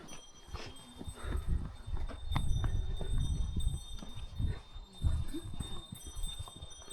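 Horse hooves clip-clop along a forest trail near Rara Lake in Mugu, Nepal, an uneven run of thuds and scuffs at close range with some rustling and background noise.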